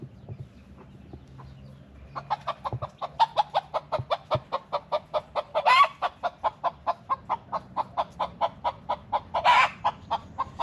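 Wild fowl in a residential neighborhood of Cherry Gardens, Jamaica, give a long, evenly spaced run of clucks, close and rhythmic, with a couple of sharper louder calls standing out.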